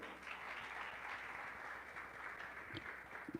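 Church congregation applauding, an even, continuous patter of many hands clapping, steady and moderately distant without a clear start or end.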